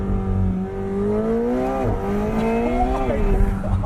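A 2020 McLaren 720S convertible accelerating. A loud engine tone rises steadily with a shift dip partway through, heard from inside the car with a voice exclaiming over it.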